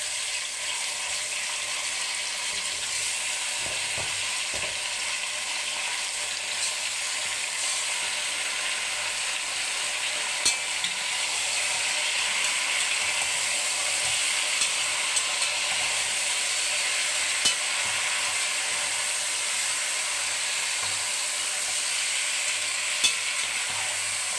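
Washed mutton fries in a pan with a continuous hissing sizzle, steady and close, with occasional light clinks from stirring and no talking.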